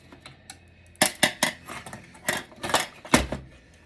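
Metal snips biting through a server power supply, a handful of sharp crunchy clicks and snaps close up, spaced irregularly with quiet gaps between cuts.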